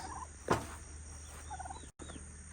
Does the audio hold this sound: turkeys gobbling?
yes